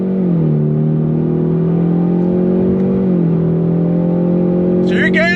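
A 2026 Ford Mustang with a 2.3 liter turbocharged engine revs loudly under hard acceleration from inside the car, a steady droning pitch rising and shifting through gear changes, with a brief rush of other noise at the end.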